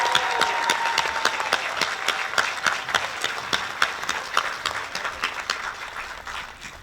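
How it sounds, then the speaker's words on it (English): Sustained applause from a graduation ceremony crowd honoring student awardees, dense steady clapping that gradually thins and fades toward the end, with no talking over it. "Can I get one more hand for all our student awardees?"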